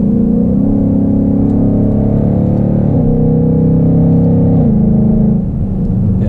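A supercharged Mustang with a 10-speed automatic pulls hard, its loud engine drone rising steadily in pitch with quick, almost instant shifts that drop the note before it climbs again, heard from inside the car.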